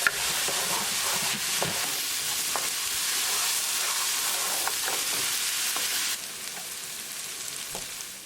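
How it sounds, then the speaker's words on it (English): Tadka with onions sizzles steadily in a hot pan while cooking for malai paneer, a dense, continuous frying hiss with faint stirring clicks, easing slightly toward the end. "our tadka is cooking"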